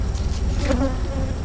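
Honeybees buzz steadily at a hive, a close, continuous drone with a few individual buzzes rising above the hum.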